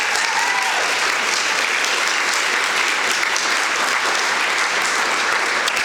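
Steady, dense applause from an audience welcoming Hall of Fame inductees at the 2019 Women's Collegiate Tennis Hall of Fame induction ceremony, continuous and fairly loud for several seconds with no talking over it.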